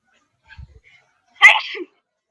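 A single sharp sneeze, close and fairly loud, preceded by a faint breath.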